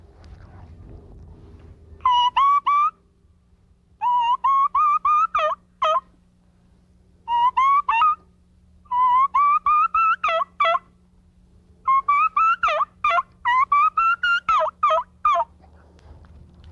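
A hunter works a mouth call through a fall kiki run turkey call, imitating a young bird: a voice-made sequence of high, whistled notes in several quick bursts separated by short pauses, close and clear with no talk.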